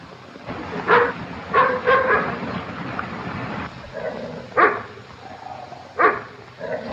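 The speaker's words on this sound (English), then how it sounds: "What's he barking for? Well, he wants to be let in, I suppose." A dog barks outside a door, wanting to be let in, in the 1937 film Young and Innocent: about five sharp barks in uneven bursts over a steady background hum.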